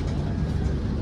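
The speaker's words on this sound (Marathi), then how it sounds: "ट्रेन निघाली." A train pulling out of a station on a journey toward Tirupati, heard as a steady low rumble and drone with no distinct events across about a second.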